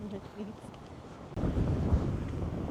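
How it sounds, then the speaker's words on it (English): Walking into a strong outdoor headwind: gusts of low rumble batter the microphone, growing suddenly louder midway and staying heavy, with a faint voice in the quieter opening. "We're walking into a headwind right now."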